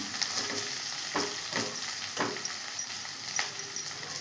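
Ingredients for coriander chutney fry gently in oil, soft intermittent sizzling punctuated by light stirring clicks and scrapes of a spoon against the pan.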